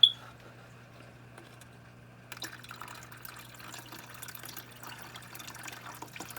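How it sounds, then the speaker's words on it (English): Water trickles and drips softly into a Biocube 32 aquarium while a dog face puffer fish is moved from a container, with a low steady hum beneath the faint splashing. "I'm gonna try to put the least amount of water in there."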